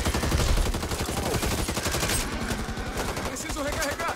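Rapid carbine gunfire in the zombie shooter game Back 4 Blood, loud dense bursts of automatic shots running continuously throughout.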